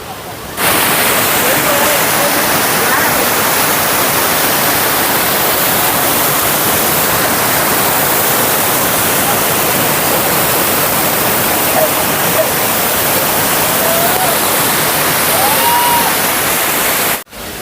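Water from the Mayabi waterfall at Jaflong pours down in a continuous, loud, broadband roar that fills nearly eighteen seconds. The roar cuts out briefly at the very start and end.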